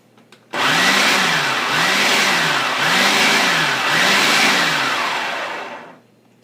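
Food processor whirring through pie crust dough, one sustained loud motor drone of about five seconds with a rhythmic wobble as the dough churns, starting and stopping sharply.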